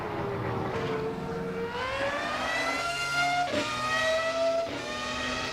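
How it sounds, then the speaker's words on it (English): A race car engine in the video game Assetto Corsa EVO revs hard and climbs in pitch through repeated rising sweeps, with brief drops at each gear change. It is loud and close throughout, with no talk. "Oh, the sound of that car though"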